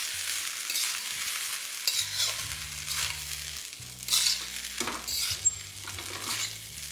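A chicken chopper mixture with soy sauce is stirred in a hot pan: repeated scraping and clinking strokes of a utensil against the pan come in uneven bursts over a soft, continuous sizzle, up close with no talking.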